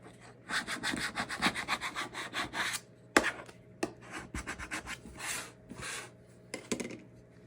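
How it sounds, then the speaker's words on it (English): Hand rubbing a decoupage napkin design down onto a craft surface for a Christmas project, heard as dense, close scraping and rubbing strokes in quick bursts, with a few sharper knocks and pauses later on. "So you just want to rub your design down onto your surface"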